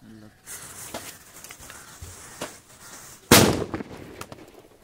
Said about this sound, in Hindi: नेक्स्ट ये बम का देखते हैं दोस्तों कितना डैमेज पहुंचा देता है इस बोतल में